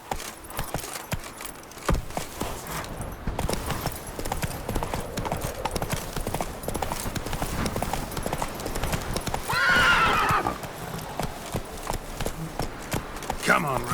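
Roach the horse in The Witcher 3 galloping, with fast rhythmic clip-clop hoofbeats throughout, jangling tack and a loud whinny partway through, under occasional talk.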